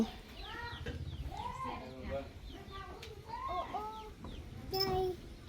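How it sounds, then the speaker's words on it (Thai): Chickens cluck and a rooster-like call rises near the end, set against busy background chatter of people talking nearby. "ไก่"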